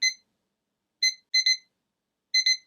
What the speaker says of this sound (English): And there the alarm's going off.